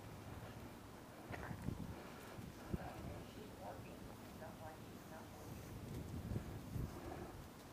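Wind blows steadily across the microphone outdoors, a continuous rushing roar with a few gusts and bumps, while a person talks intermittently over it.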